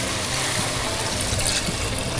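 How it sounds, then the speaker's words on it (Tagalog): Water pours into a cooking pot of chicken for tinola soup, a continuous splashing, rushing stream close by and fairly quiet, steady throughout with no voices. "Maglagay na po tayo ng tubig."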